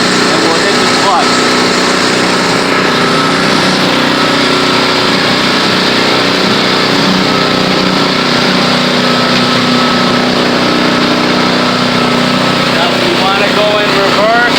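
A snow broom machine's small engine runs hard with the clutch engaged, a loud, steady high buzz with some clatter throughout, and a voice speaks over it.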